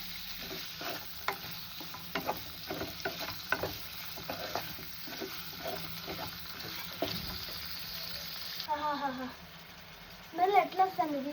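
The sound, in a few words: prawns frying in a pan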